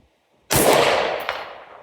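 A single sharp gunshot at a shooting range fired toward a target, loud and close, with a long decaying echo and a faint metallic ring of a hit just after.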